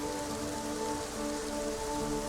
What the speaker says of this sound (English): Good rain too